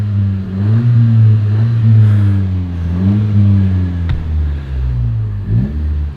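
Honda Civic 1.5 VTEC Turbo petrol engine idling steadily, then revved a few times in smooth rises and falls, close and loud throughout.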